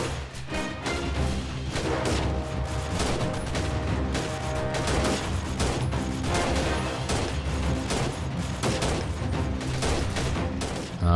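Dense gunfire from the video game Freeman Guerrilla Warfare during a town siege, a continuous barrage of overlapping shots, bursts and heavy booms that goes on without a break at high intensity.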